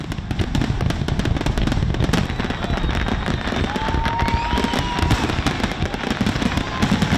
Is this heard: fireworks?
yes